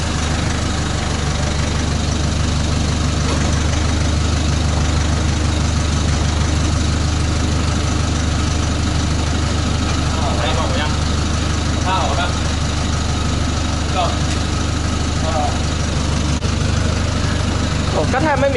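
An Isuzu D-Max 1.9 diesel idles with a steady low rumble after a twin-plate clutch install, with people talking over the engine throughout.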